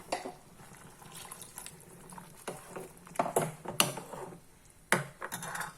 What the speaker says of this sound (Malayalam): ഇനി നമുക്ക് ഇതെല്ലാം കൂടെ കഴുകി കുറച്ചുകൂടെ വെള്ളം വേണമല്ലോ, അതൊഴിക്കാം